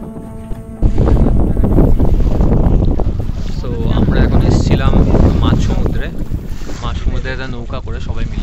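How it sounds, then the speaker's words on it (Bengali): A boat carries a group over the water off Mousuni island at sunset, with strong wind buffeting the microphone and voices talking under the steady roar. "নৌকা করে সবাই মিলে"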